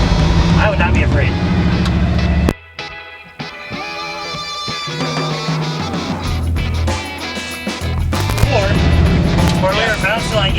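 A Chevrolet C10 project truck is driven in loud, continuous bursts of engine and road noise. A brief drop near the middle lets clattering and rattling through, and voices talk over much of it.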